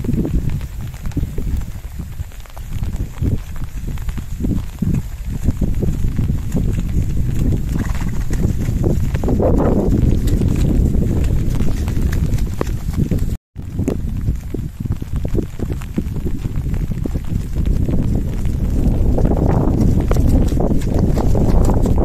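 A warm horse trots on the spot during a side-pull riding session in the rain, with continuous rustly hoof beats and movement under steady wind or rain noise, loud and close throughout, with no talk.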